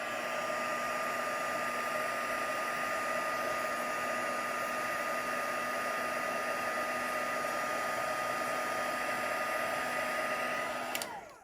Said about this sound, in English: I'm just moving the heat source around as the powder dries